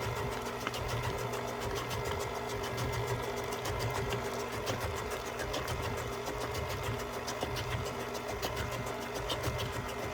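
An electric mixer runs continuously at close range, whirring and rattling steadily as it mixes shortbread cookie dough, with no pauses.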